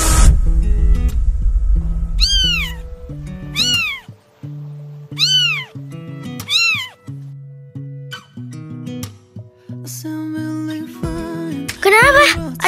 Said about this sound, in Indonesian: Ada kucing lewat.